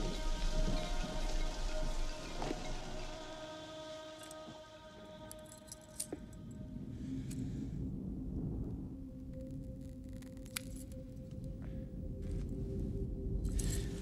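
Steady rain falls in a film scene, a dense continuous patter with scattered sharper drops and a faint low rumble underneath, with no voices.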